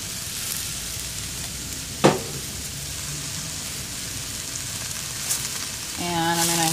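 Rice and tomatoes sizzle and fry in a hot wok, a steady crackling hiss throughout, with a brief clunk near the start and stirring scrapes toward the end.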